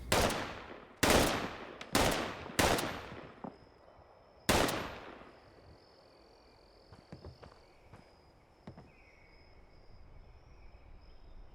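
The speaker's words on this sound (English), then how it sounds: "We're going to fire 3 more rounds." Gunfire at a shooting range: five loud, sharp shots in quick succession at close range, each with a ringing decay, followed by quieter scattered pops and lingering outdoor ambience.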